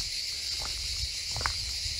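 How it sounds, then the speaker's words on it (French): Cicadas sing in the Provençal hills under a hot sun, a steady high buzzing drone that holds constant throughout, with a few faint scattered clicks beneath it and no voices. "enivré par le chant des cigales"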